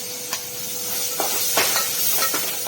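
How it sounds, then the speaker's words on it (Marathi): Spice tempering for field beans gives a soft, even hiss close by, with a few brief spits and pops breaking through now and then, and no talk. "आणि वालासोबतच मसाल्याची फोडणी द्यायची आहे."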